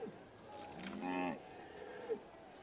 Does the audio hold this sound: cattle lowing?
yes